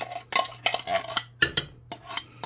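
Contents of a can scraped and plopped into a Crock-Pot for hamburger, cheese and potato soup, heard as a quick run of close, dull metallic scrapes and knocks with soft wet thuds, under a faint steady hum.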